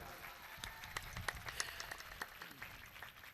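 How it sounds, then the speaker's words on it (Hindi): A rural village crowd at a devotional music gathering breaks into scattered, fairly distant clapping, with individual claps standing out over a low murmur of background noise. "एक बार जोरदार ताली बजाओ।"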